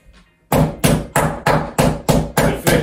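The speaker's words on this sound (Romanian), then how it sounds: "Mai dai 2 ciocane" A hammer pounding a piece of meat on a board, eight loud, evenly spaced heavy thuds in quick succession after a brief quiet start, close up with no talk.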